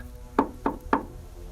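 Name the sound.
three knocks on a door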